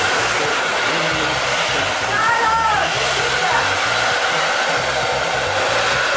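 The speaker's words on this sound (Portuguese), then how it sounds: "liga esse secador aqui" A hair dryer runs in a home while getting ready for school, a loud, steady whooshing roar that fills the whole stretch without pause, close by.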